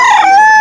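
A single short, loud, close rooster crow at a gamefowl market in Bocaue, Bulacan, a sharp held call that cuts off abruptly.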